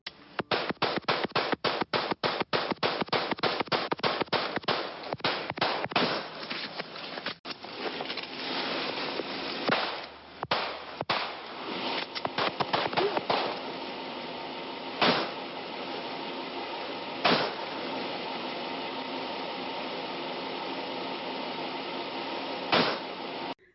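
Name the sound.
gunshots from a recording of a police shootout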